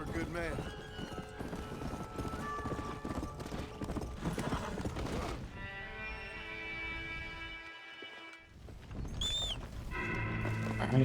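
A horse's hooves clip-clop in a steady rhythm in the Red Dead Redemption Undead Nightmare video game. The horse whinnies near the end, and game music and a talking voice run alongside.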